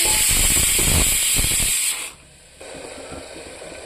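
Spices with turmeric frying in hot oil in a pan give a loud, steady sizzle and hiss with clatter from stirring, which drops suddenly about halfway through and settles into a quieter simmer.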